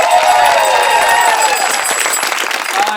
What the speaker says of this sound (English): Everyone, please a big round of applause for Experts Challenge.